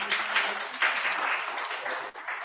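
An audience at a regional forum gives a short round of steady applause, a dense, even clatter of many hands held at moderate volume throughout, easing slightly just before the end.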